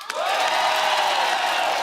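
Studio audience on a Hindi TV comedy show bursts into loud, sustained applause and cheering with whoops as the three judges are invited on stage, a dense wash of clapping and shouts filling the whole moment.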